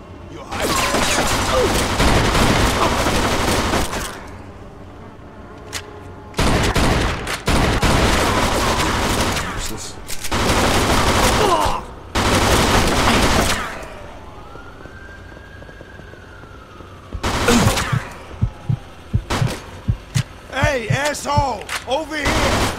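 Automatic gunfire in the Mafia 2 game, bursts of loud, dense shooting broken by short pauses, with sharp single shots near the end and a siren-like wail between volleys.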